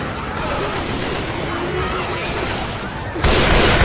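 Heavy, dense gunfire and chaotic combat noise fill a Left 4 Dead match, with a continuous barrage of shotgun blasts and shooting that grows louder near the end, alongside players' voices.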